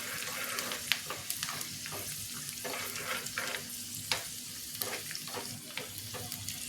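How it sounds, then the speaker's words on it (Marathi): Peanuts frying in hot tempering oil for dadpe poha, a steady close sizzle with crackling pops and occasional stirring scrapes throughout. "दाणे चांगले कुरकुरीत झाले पाहिजे एवढे फोडणीत आपण हे करू."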